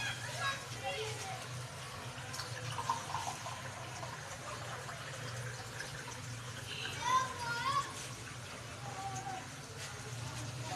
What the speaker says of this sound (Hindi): 2 गिलास में डालेंगे पानी।